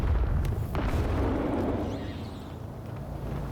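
Grenade blast in S.T.A.L.K.E.R. 2, a loud nearby explosion whose deep rumbling boom and scattered debris rolls on for several seconds before slowly fading.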